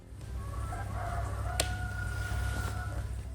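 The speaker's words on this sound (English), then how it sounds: "Why are there roosters crowing?" Roosters crowing at night in a village in Wuyuan, Jiangxi Province, China: drawn-out calls carry from some distance over a steady low hum, with a sharp click cutting through midway.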